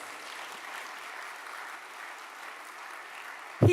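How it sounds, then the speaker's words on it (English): Sustained applause from an audience at the Invest Jamaica 2022 investment conference, a steady even wash of clapping for the minister that holds at one level throughout, then a sharp low thump right at the end. "Could we give the minister another round of applause?"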